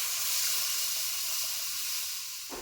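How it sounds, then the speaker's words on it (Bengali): Water poured into a pan of fried potatoes and spices for an egg and masoor dal dish sets off a loud, steady steaming hiss that cuts off abruptly near the end. "এখন দিয়ে দিচ্ছি জল।"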